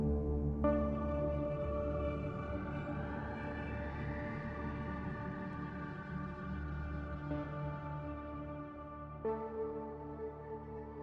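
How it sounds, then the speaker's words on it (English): A sustained Heavyocity Mosaic Neon synth patch holds a rich layered chord while a pitch climb and filter sweep rise slowly in the background, with a brief accent partway through and a new layer entering near the end; no voices. "So you can hear that kind of pitch climb and filter all happening in the background."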